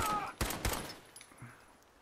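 A few sharp gunshots ring out in Fallout 4, two or three quick cracks close together followed by faint scattered echoes, fairly quiet overall.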